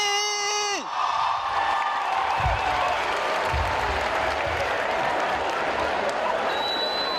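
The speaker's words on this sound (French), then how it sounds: "On applaudit encore une fois pour le docteur du rire." A crowd applauds loudly and continuously for a comedian, with some whoops and cheers mixed in, after a brief tonal musical phrase cuts off.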